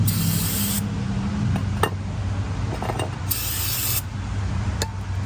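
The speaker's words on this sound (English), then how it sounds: "Now let's go ahead and spray down the" Two short bursts of aerosol spray cleaner hiss close by onto Honda Accord front brake clips, separated by a few seconds, over a low mechanical hum with small clicks and taps.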